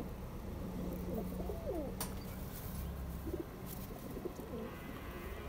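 Teddy pigeons kept by a fancier in a village near the Jammu and Kashmir border coo in soft, repeated low phrases, close by, with a few sharp knocks and clatters in the background.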